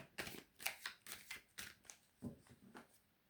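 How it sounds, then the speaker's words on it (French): Oracle cards are shuffled by hand in a series of short papery riffles and slides, soft and close, with brief pauses between bursts. "On va mélanger l'oracle des miroirs."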